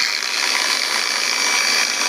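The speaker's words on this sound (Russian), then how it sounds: "включим для начала просто включим болгарку" A Heimerdinger LB168 cordless angle grinder runs at speed, a loud, steady high-pitched whine held without pause, close and alone.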